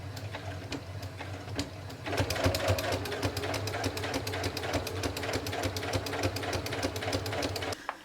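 Sewing machine stitching binding onto the edge of a quilt, starting with a light intermittent whir and then running steadily in a fast, even stitching rhythm up close before stopping abruptly.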